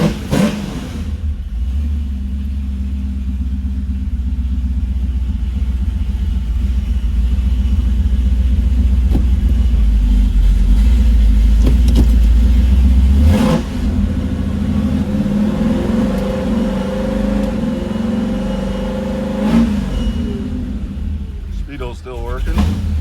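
A fuel-injected Chevrolet Camaro engine runs close by with a deep, steady rumble, revving harder midway before easing back to a rougher idle.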